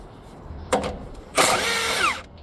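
A power tool breaks bolts loose on a bracket of a JLG Ultra Boom lift, sounding as a short whirring burst followed by a longer, louder one close by.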